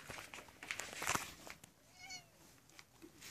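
Cat meowing indoors, one clear drawn-out meow in the middle with rustling and tapping around it, fairly quiet and close.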